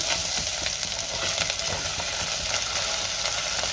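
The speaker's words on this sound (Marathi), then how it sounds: "आता आपल्याला ह्यामध्ये आले लसणाची पेस्ट घालायची आणि पुन्हा एक मिनिटभर परतून घ्यायचे" Onion sautéing with ginger garlic paste in a pan sizzles loudly and steadily, a constant close frying hiss with faint stirring scrapes throughout and no voices.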